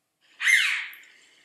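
A single sharp, high, ringing squawk from a chough, rising and then trailing off, heard alone against silence.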